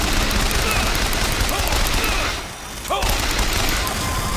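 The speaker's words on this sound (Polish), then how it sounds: "Teraz to działko samo do mnie strzela" A turret fires at the player in BioShock Infinite, a loud, steady rattle of rapid shots that dips briefly midway and then resumes.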